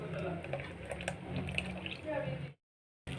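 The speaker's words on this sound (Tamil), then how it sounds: "புளி தண்ணி," Tamarind water is poured into a South Indian sardine curry cooking on the stove, a soft splashing trickle with light sizzling that runs for a couple of seconds and then cuts out.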